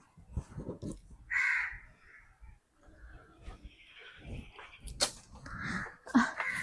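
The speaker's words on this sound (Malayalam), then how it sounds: "കാക്ക" A crow caws several times in sharp, harsh calls spaced across the scene, fairly close, amid quiet background noises and scattered thumps.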